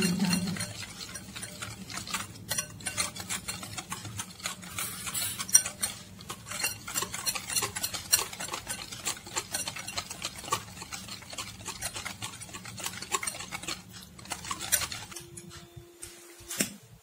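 Cake batter for a mango leather (amsotto) cake stirred in a bowl, a steady run of scraping and clinking strokes alone at moderate level, ending in a brief sustained hum.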